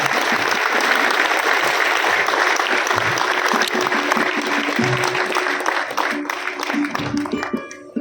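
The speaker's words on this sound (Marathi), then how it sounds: "याहीपेक्षा जोरदार टाळ्या झाला पाहिजे" Sustained loud applause from an audience at a lifetime achievement award ceremony, dense clapping filling the hall that gradually thins toward the end, with a voice briefly heard underneath.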